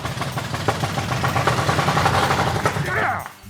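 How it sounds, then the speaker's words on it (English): A long-dormant Richard Petty Superbird engine coughs and fires up after decades unused, a rough, loud continuous roar with irregular popping bursts that settles and drops off near the end, with voices talking over it. "That is an engine that hasn't ran for 50 years, folks."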